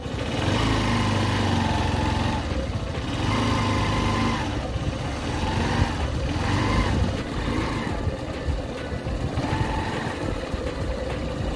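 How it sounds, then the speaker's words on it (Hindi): Motorbike engine running steadily while riding along a road, a continuous mid-pitched drone with wavering tone and constant rumble, close and loud throughout, no talk. "देखिए बाइक में मैं चल रहा हूँ इसको लगा के"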